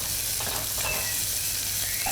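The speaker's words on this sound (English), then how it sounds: "flip codfish on the other side. Allow it to fry crispy." Codfish fries in hot oil in a pan, giving a steady, close, continuous sizzle with soft crackles and no talking.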